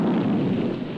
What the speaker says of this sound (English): The explosion shoots mud and water up in the air